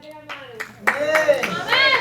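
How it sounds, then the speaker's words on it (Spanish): A congregation claps for the Lord during a church service, sharp rhythmic claps building in strength beneath voices that speak and ring out over them. "Un fuerte aplauso al Señor."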